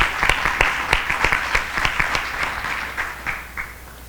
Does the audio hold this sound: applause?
yes